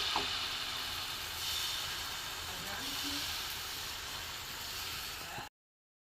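A thin flour batter cooking in an oiled frying pan for an egg roll gives off a constant, even hiss that stops abruptly, with faint talking in the background.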